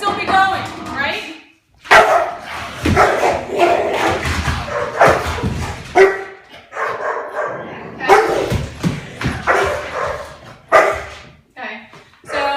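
A shelter dog barks a warning during a temperament test, with repeated sharp, loud barks and some whimpering yips in close bursts, mixed with people talking.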